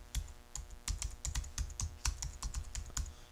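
Quick, light clicking of keys on a computer keyboard as a folder name is typed, a steady run of close, crisp taps lasting a few seconds.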